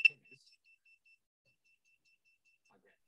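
A small electronic buzzer driven by a Raspberry Pi Pico gives one short, sharp beep at the start, followed by near silence with a few faint ticks.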